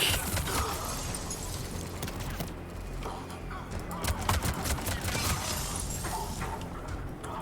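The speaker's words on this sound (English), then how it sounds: "I hear more shooting. Oh, somebody's shooting me, but where?" Gunfire in the video game Mass Effect 3: dense, crackling bursts of shots and impacts pile up in a busy, continuous battle din, with louder sharp pops scattered throughout.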